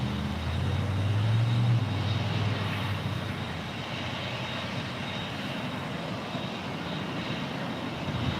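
An Airbus A310 jet at LAX drones with a steady, loud engine roar that swells slightly early on and then holds constant, heard from a distance with no voices.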